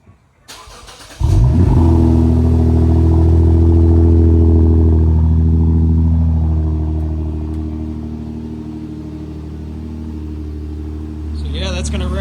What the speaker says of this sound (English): This is how it sounds too with the muffler delete.